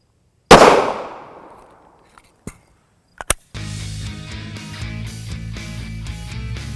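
A 4-inch Glock 19 fires a 9mm Federal Hydra-Shok 135-grain hollow-point round during a gel test. One sharp, loud shot rings out and trails off slowly, followed by a few small clicks and then background music.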